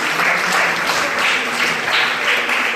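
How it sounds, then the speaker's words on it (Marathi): An audience claps loudly and steadily at a Buddha Jayanti celebration, a dense close wash of applause in uneven surges, with no voices over it. "जोरदार टाळ्या यांच्यासाठी."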